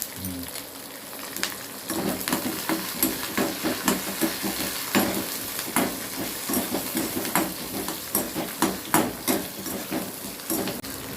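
Green chillies fry in a pan for mint chutney, a steady hiss with repeated scraping strokes of a spatula stirring them throughout, close and moderately loud, with no talking.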